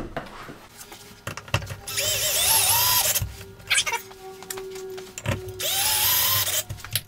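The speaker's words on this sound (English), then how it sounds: "I'm going into wood, so I'm gonna use these cabinet screws" A cordless power drill drives cabinet screws into wood in two loud bursts, its motor pitch rising as each screw turns in, separated by handling clicks and quieter pauses.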